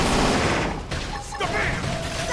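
Loud video game combat blasts in bursts of dense firing and crashing impacts, one after another, layered with electronic effects and ringing tones.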